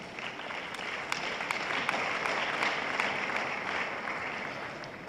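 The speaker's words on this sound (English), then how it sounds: "Let's give our interviewees a round of applause." A crowd applauds steadily, with dense, even clapping throughout and a few sharper claps standing out.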